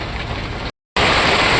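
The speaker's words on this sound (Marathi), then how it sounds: "काही भरपूर जोरात पडतोय पाऊस" Heavy rain pours onto a terrace in a dense, loud, continuous roar, broken by a brief silent gap before the downpour resumes just as strong.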